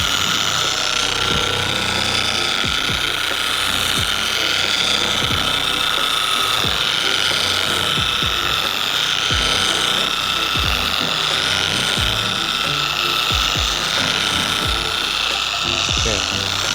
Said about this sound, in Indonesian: Gunakan speed lambat dulu untuk meratakan obatnya pada bidang permukaan yang akan kita lakukan pemolesan.